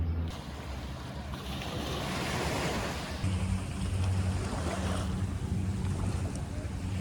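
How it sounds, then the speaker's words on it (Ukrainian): Surf washing onto a secluded Thai beach ringed by mountains, with broad, steady wave wash and wind buffeting the microphone throughout and a low boat-engine-like drone joining partway through. "Цей пляж такий затишний, оточений з усіх боків горами"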